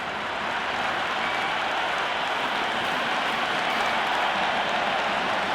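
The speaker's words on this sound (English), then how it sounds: "It's evident and ever so audible that the crowd is at near bursting point at today's play." A stadium crowd in the cricket video game Cricket 26 during a KKR vs SRH match gives off a dense, steady roar of cheering and applause. It is loud and unbroken, with no talk over it.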